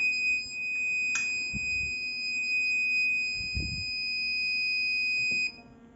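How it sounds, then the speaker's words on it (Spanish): An Arduino motion-detector alarm buzzer in a Tinkercad simulation sounds as a steady, piercing electronic tone. It holds unbroken for about five seconds, then cuts off, with faint handling clicks underneath. "ahora moveré la mano y nuestra alarma está activada"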